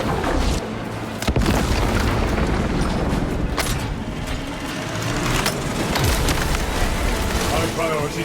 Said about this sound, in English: Prepping melter bomb.